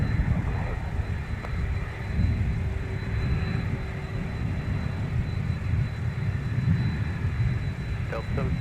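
A FedEx heavy cargo jet taxis at Minneapolis–St. Paul airport, turning left onto taxiway Delta. Its engines make a steady, continuous low rumble at moderate distance with no pauses.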